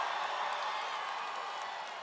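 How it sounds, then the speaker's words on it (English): Rambunctious rally crowd in Tucson, Arizona, a dense, continuous wash of cheering and clapping, loud and steady with no single voice standing out. "This is a rambunctious crowd."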